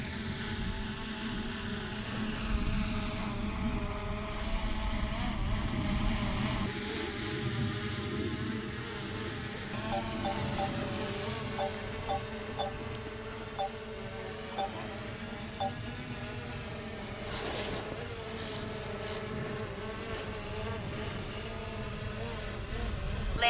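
Small DJI Mini 4 Pro drone descending to land, a faint, thin, high buzzing whine that holds steady throughout with slight pitch wavers under quiet room tone.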